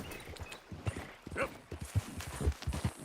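Horse hooves clip-clop at a steady walking rhythm on a road in a video game, loud and close, continuing through the whole stretch.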